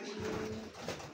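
Racing pigeons in a loft give soft, low cooing, close and continuous over a brief stretch with no talking.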